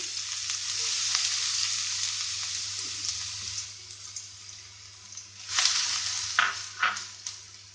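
Chopped onion sizzles in coconut oil in a pan on a gas stove, a steady bright frying hiss with a low hum beneath and a few louder spurts and clinks near the end, quiet and close.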